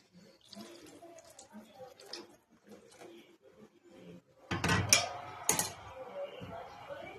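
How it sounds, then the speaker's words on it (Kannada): Water is poured into chicken gravy in a pot, a sudden gushing splash midway after quieter sounds of kitchen handling, then fading bubbling and clinks. "ಈಗ ಸ್ವಲ್ಪ ನೀರು ಹಾಕತ್ತೀನಿ."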